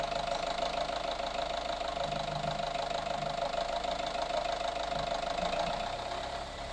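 A Nissan X-Trail T30 petrol engine, one with a rough idle and white smoke when cold, runs at close range with a steady, even hum and no clear rise or fall in pitch, fading slightly at the end.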